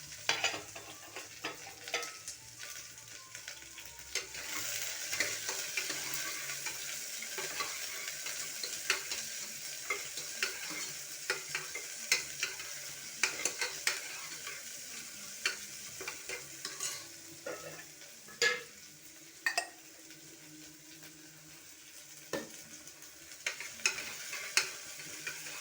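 Onions fry in a pan for benda kaya pulusu, a steady sizzle broken by frequent sharp scraping and clinking of a spoon stirring, close up with no talking.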